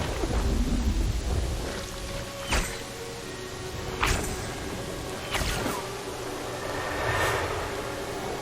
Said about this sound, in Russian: И пошел дождь.